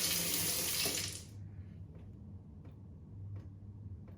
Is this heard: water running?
yes